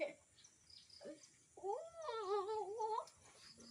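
A cat lets out a long, wavering meow after a few short soft sounds, close by and fairly loud.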